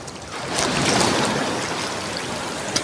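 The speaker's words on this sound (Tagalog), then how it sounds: "Ayan, laki ng alon doon" Waves break and wash over a beach in one broad surge that swells and fades. No one speaks.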